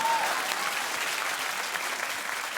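Studio audience applause on a daytime talk show, a steady wash of clapping that fills the whole moment at even loudness with no talk over it.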